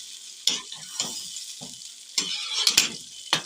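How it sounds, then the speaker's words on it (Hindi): Chicken karahi being stirred in a pan after tomato puree and yogurt go in, with several distinct scraping strokes over a steady hiss of sizzling; no voices. "अब सब चीज़ों को अच्छी तरह से आप मिलाएं"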